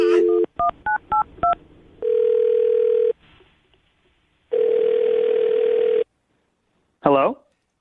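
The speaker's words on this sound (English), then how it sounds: "I'm going to dial his phone number right now" Touch-tone keypad beeps come in a quick run of short, separate tones, followed by two longer steady tones with a gap between them, all loud and close, with a brief voice at the very end.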